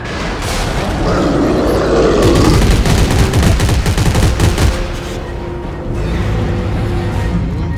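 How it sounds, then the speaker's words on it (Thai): Gunfire in the Dead Space 3 co-op game, a dense rapid burst of loud shots and booming impacts lasting several seconds, with heavy rumbling underneath. "คือปืนคุณแรงขนาดนี้เลยใช่ไหมครับ"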